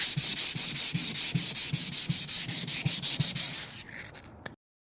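Rhythmic back-and-forth sanding strokes rub cheap spray paint off a Chevy Impala part, about a dozen steady close passes before the scraping stops abruptly.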